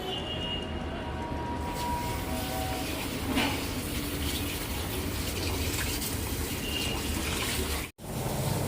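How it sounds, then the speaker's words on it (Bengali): Rice and lentils are rinsed together in water, a continuous close splashing and gushing like running water filling a pot, steady throughout with one brief cut near the end. "এবার আমি চাল আর ডালটা একসঙ্গে ধুয়ে নেব।"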